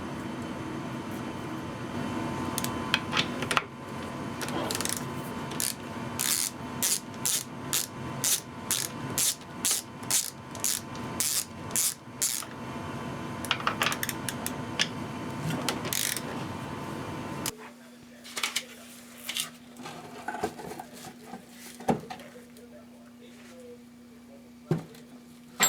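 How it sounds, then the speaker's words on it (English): A ratchet wrench loosens the four 9/16 bolts on a Hayward Super Pump during a seal replacement. It gives rapid, close ratcheting bursts in a steady rhythm, then a few sparser clicks over a low electrical hum. "we're going to have to undo the 4 9/16 bolts"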